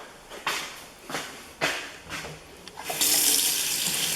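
A sink faucet runs in a park bathhouse at Kings Mountain State Park: a few brief splashing bursts, then a steady, continuous stream of water that fills the room.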